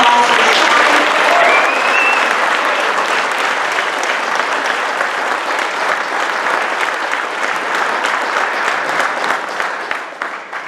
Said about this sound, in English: So can we please give a big round of applause?